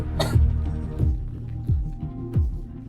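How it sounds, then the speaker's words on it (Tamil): A woman coughs from the cold, several short rough coughs spaced about a second apart over a low droning background hum. "அந்த பெண்ணுக்கு குளிரால் இருமல் வர ஆரம்பித்தது"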